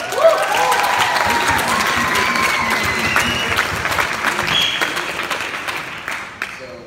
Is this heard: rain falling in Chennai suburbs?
no